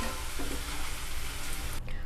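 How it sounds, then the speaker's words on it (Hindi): Potato pieces frying in hot oil in a pan, giving a dense, steady sizzle that carries on for a couple of seconds with a brief stirring scrape. "अच्छे से आलू को फ्राई कर लेंगे"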